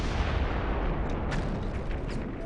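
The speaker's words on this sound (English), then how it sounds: "Then came the frightful explosion." A frightful World War I explosion: a broad, roaring boom with a continuous heavy rumble and crackling debris, loud and sustained across the whole clip without any voices.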